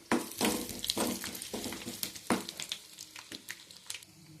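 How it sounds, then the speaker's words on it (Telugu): Ingredients frying in a pan until brown for chakari pongali, a sweet rice dish, with a steady sizzle punctuated by sharp clinks and scrapes of a spoon stirring, close and moderately loud with no talk. "వీటిని బ్రౌన్ కలర్ వచ్చే వరకు కూడా వేయించుకుందాం."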